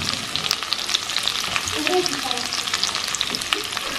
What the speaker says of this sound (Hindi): अभी हम डाल देंगे अनियन, मैंने कर लिया लहसुन को